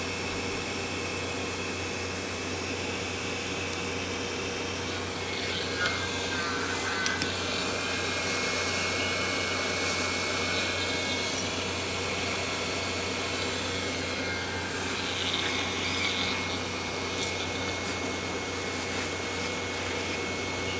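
A heat gun blows a steady, even airy roar while shrinking heat shrink tubing over Gibson SG guitar wiring, a constant close hiss that runs unbroken for about twenty seconds with no speech.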